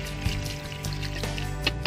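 Liquid fertilizer pours around the edge of a potted apple tree, a soft continuous close trickle of liquid onto soil with no talk.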